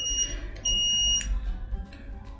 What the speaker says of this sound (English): Audible alarm, it will be raised here.